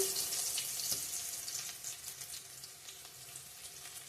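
Chopped ginger frying in oil with browned onions hisses faintly and continuously in the pan, a soft, even sizzle with no speech.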